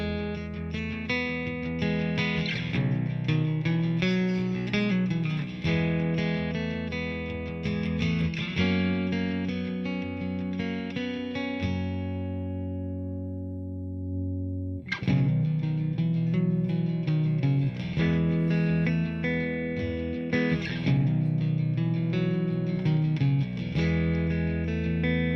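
Electric-sounding acoustic guitar with a piezo pickup through a single cable plays chords and melody with a processed, slightly distorted tone, one brief pause midway before playing resumes.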